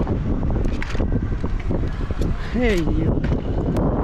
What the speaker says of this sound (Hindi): काफी ज्यादा हवा चल रहा है यार, काफी ज्यादा हवा चल रहा है।